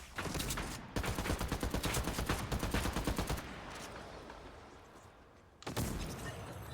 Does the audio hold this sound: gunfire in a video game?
yes